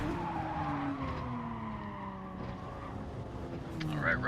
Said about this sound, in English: Mitsubishi Lancer gets into the GTR, sending that GTR into the wall.